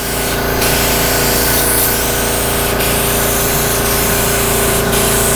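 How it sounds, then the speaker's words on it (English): A Powermate HVLP gravity-feed spray gun, model P010-0037SP, sprays with a continuous close hiss over a steady mechanical hum, with a few brief airy surges along the way. "I can adjust my spray, so that makes it come out a little bit wider"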